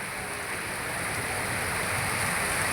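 Rain falling steadily in the Seethampeta hill area, a soft even hiss that stays constant and close with no talk.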